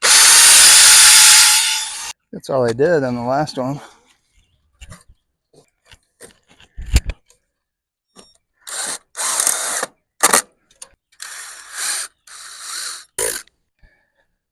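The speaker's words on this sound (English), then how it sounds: "Pre-drilling so I don't crack it." A power drill whines up and down in bursts as it pre-drills wood for a chicken tunnel support, with short clunks and pauses between runs and a brief remark spoken.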